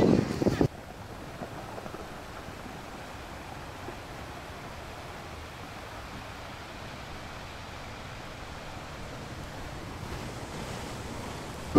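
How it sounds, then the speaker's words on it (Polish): Sea waves wash onto a sandy beach at a campsite near Zadar, Croatia, a steady low wash of surf with some wind rumble, faint and continuous after a brief louder bump at the start. "No i nasza plaża i morze."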